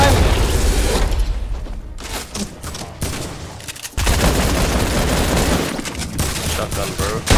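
Rapid gunfire in the video game Fortnite: dense, continuous bursts of shots and booms fill nearly the whole stretch, loud and close, with brief lulls between volleys.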